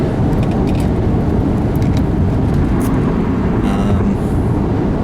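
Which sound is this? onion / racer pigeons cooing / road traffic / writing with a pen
road traffic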